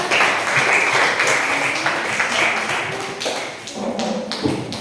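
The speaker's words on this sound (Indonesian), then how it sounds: "Bagus sekali kelompok nomor 1 ya. Tepuk tangan." Classroom applause for the first student group after its presentation: a burst of scattered hand claps and taps, thinning toward the end, with some voices mixed in.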